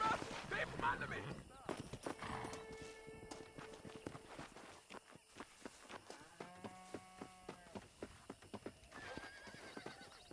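In Red Dead Redemption, a horse whinnies and its hooves clip-clop in a steady walking rhythm, faint under game music and voices.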